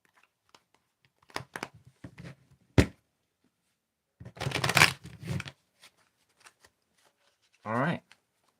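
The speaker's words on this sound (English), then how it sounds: "I'm gonna just shuffle a little bit" Tarot cards are shuffled close by in several short bursts of riffling and slapping, separated by near-silent pauses.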